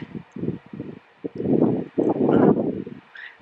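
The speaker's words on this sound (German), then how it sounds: "Und Wind ist am Start." Outdoor wind gusts buffet the microphone in uneven low rumbling bursts, briefly pausing before stronger sustained blasts near the close, with no speech.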